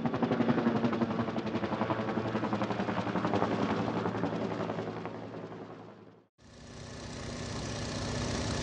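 A helicopter's engine drones loud and steady with a dense rotor chop, breaking off briefly and then returning at similar strength.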